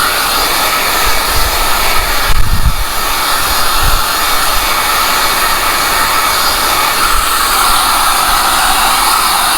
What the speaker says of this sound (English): get the heat gun out